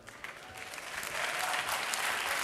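An audience claps for students from the Istituto Feltre at a regional remembrance day event. The dense applause is steady and swells a little louder as it goes on.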